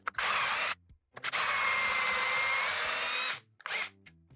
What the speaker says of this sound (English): and then drill the other two holes.